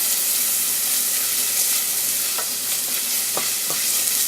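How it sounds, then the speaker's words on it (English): Minced garlic and onions sauté in a pan, stirred to brown the garlic. A loud, bright sizzle with a hissing edge fills the whole stretch, broken by a few short scrapes of the stirring utensil. "Stir them for maybe just a minute there just to get the garlic kind of browned a little bit"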